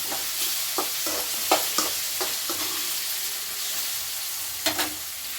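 Ghee tempering for upma with curry leaves, onion, green chillies, tomato pieces, peanuts, moong dal and chana dal, sizzling steadily in a pan while a spoon stirs in short scraping bursts; no one speaks.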